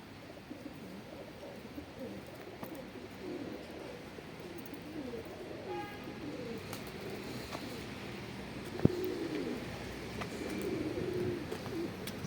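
Pigeons coo softly in a series of low, rolling calls that repeat throughout, fairly quiet and close by, with one sharp click near the end.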